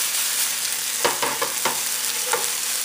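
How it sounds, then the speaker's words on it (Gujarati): Okra curry fries in a pan with a soft, steady sizzle, broken by a few short scraping stirs near the middle and end, close and fairly quiet. "આપણે હજી આ તરશું પક્કા સાવ જરાક એમાં રંગ પકડે."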